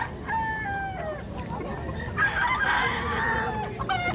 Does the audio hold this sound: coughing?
no